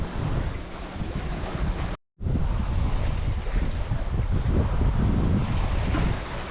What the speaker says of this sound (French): Les conditions sont bonnes. Ils ne vendent pas beaucoup par contre. Et la mer est calme.